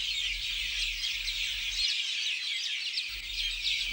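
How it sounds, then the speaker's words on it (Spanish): Colorful Madagascar birds chatter and call noisily from roadside vegetation, a dense continuous mass of high chirps and tweets over a low rumble that drops out briefly in the middle. "Mucho más abundantes son estos coloristas pájaros de Madagascar, alborotados a la vera del camino."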